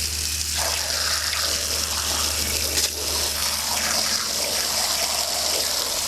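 Water from a hose gushes steadily over an aquarium maintenance unit, a loud, continuous splashing rush with no voices.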